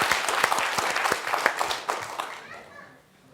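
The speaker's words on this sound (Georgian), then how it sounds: "აპლოდისმენტები" Studio audience applause at a televised comedy contest show, dense clapping that holds steady and then fades out near the end.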